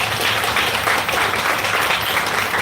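An audience claps together at a public felicitation meeting. The applause is dense and sustained, runs steadily through the whole moment and sounds fairly close and loud, with no voices over it.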